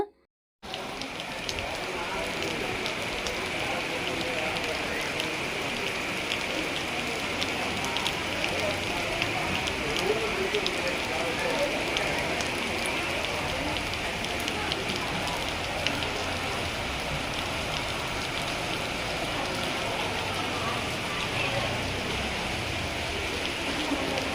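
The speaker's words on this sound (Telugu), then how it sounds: "వర్షం అయితే ఫుల్గా పడుతుంది" Heavy rain falls steadily in Kanchipuram, a constant dense hiss of drops that starts abruptly and holds at an even, fairly loud level, with voices underneath.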